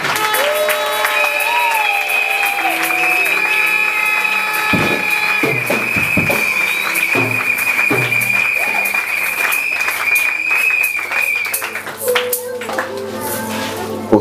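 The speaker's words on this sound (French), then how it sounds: "on acclame très fort pour la gloire de Dieu" Congregation applauding and cheering loudly at a prophet's consecration ceremony, dense continuous clapping throughout with a long sustained high shrill tone over it and voices mixed in.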